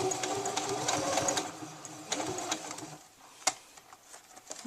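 A sewing machine stitches lining to front and back bodice fabric in bursts of rapid needle chatter for about three seconds, then stops, leaving a few quieter clicks and handling noises.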